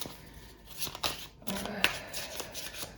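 Tarot cards shuffled by hand for a reading, a soft close riffle and patter of card edges, quiet and brief.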